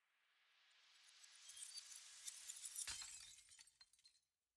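Glass shattering as a sound effect in a remix, layered with soft white noise that swells gradually, then a bright crash breaking near the end before trailing off.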